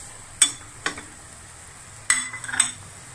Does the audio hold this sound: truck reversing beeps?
no